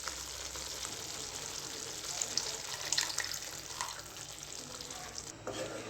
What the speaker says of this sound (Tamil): புளி தண்ணியை இது கூட ஆட் பண்ணிக்கலாம்.